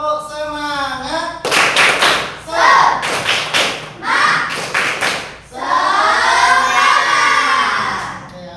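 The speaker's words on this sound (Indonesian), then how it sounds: "Tepuk semangat." A teacher leads a class of children in a rhythmic spirit clap routine: sharp bursts of group clapping in set patterns, alternating with chanted voices and children's shouting.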